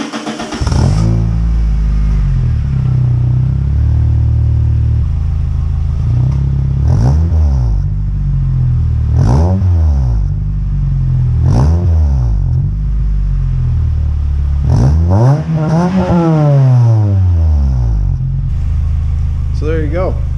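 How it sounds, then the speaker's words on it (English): A 2005 Toyota Corolla XRS with an axle-back exhaust muffler revs repeatedly in sharp bursts over a steady idle rumble, roughly six or seven throttle blips, loud and close. "I'm gonna go ahead and give you guys a couple of revs here"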